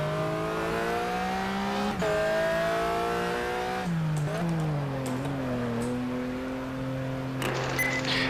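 A race car in a racing simulator video game drones steadily as the engine note rises and falls with gear changes, continuous and fairly close throughout.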